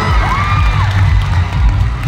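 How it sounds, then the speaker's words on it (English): An audience at a youth summit event cheers and whoops loudly, a dense crowd roar filling the hall without pause. "let's give a round of applause and enjoy their podcast, everybody"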